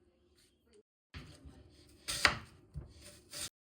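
A knife cutting vegetables into half-moon slices for a pickle, with a few distinct chopping strokes on a board, one sharper and louder than the others, separated by short pauses.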